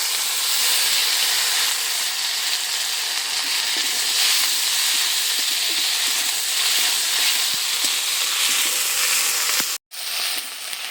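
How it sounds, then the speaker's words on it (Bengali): Ginger-garlic paste and chopped onion fry in a pan as a loud, dense, steady hiss close up, with faint stirring ticks underneath and a brief cut near the end; nobody talks. "নেড়ে ছেড়ে নিয়ে এখানে দিয়ে দেবো আদা রসুন বাটা"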